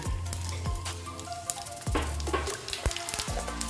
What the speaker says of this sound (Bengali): দিয়ে এটাকে আমি ভালো মতন ভেজে নেব